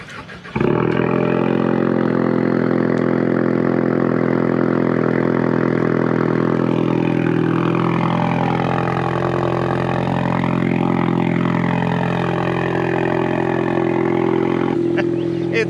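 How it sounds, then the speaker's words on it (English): A Ford EcoBoost four-cylinder engine with factory exhaust cold-starts abruptly, then settles into a loud, steady idle with a deep exhaust drone and a slight shift in tone partway through. "this cold start gets louder and louder every time"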